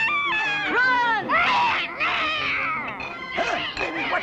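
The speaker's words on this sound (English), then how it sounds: "Look out, you stupid cat!" Gargamel's cartoon cat from The Smurfs yowls and caterwauls in loud, wavering, rising and falling cries, several strained howls in a row, close and prominent.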